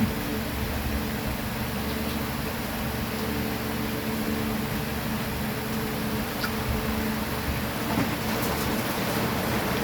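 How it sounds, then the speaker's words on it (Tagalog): Heavy rain pours steadily outside during a home meal, a constant broadband hiss of moderate loudness with no pauses and no voices over it. "Oh, lakas ng ulan."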